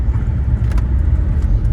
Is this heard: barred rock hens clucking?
no